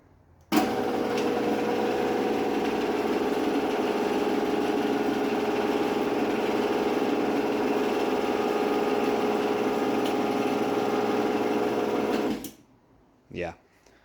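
A Genie 450 screwdrive garage door opener runs with a steady mechanical motor drone for about twelve seconds, then cuts off, followed by a brief faint sound.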